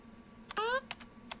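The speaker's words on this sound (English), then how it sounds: "I also like that there's keyboard clicky sounds when you move." Soft keyboard clicks accompany movement in Interference: Dead Air, a few quiet taps in a short run, alongside a brief voice and a faint steady background hum.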